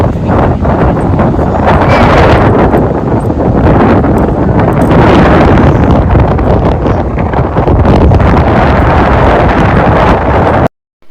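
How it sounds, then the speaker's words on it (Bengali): Strong wind buffeting the microphone at Mandarmani beach during a low-pressure spell, loud continuous roaring rush that may hide surging sea waves, steady throughout before cutting off abruptly at the end. "কি হাওয়া দিচ্ছে, তার সাথে সমুদ্রের এই শব্দটা দারুণ দারুণ।"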